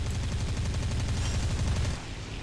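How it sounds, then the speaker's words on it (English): Aircraft machine guns and cannons firing in the combat flight game War Thunder: a loud, sustained rapid burst of overlapping gunfire that cuts off sharply near the end, leaving a lower droning engine hum. "Your machine guns and cannons are interesting."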